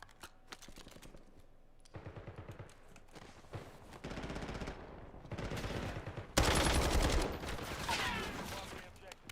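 Rapid bursts of video game gunfire crackle in dense, rattling volleys that grow louder and busier over several seconds, with background game sounds and no clear speech.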